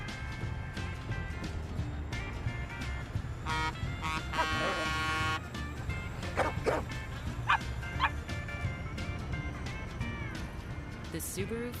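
Dog barks and yips in a Subaru Forester car advert, a few short sharp calls rising above steady voices and music, with a brief burst of tonal sound midway.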